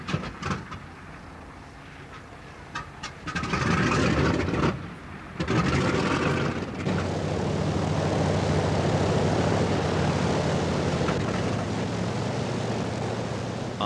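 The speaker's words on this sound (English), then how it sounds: "After 7 days' hard work, the engines are running smoothly" Restored B-29 bomber radial engines start up and settle into a loud, steady propeller drone after some uneven coughing bursts, running continuously outdoors.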